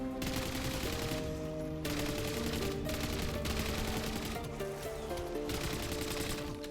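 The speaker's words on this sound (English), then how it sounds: "Yeah, that is the AN-94." AN-94 rifle fire in a video game, rapid bursts set steadily beneath a loud, sustained layer of game music or ambience, moderately quiet overall with no talk.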